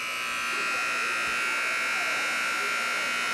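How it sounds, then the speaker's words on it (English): A basketball scoreboard buzzer in a gym is tested during a game, holding one steady electric drone throughout under a low murmur of crowd noise. "They're working on this buzzer."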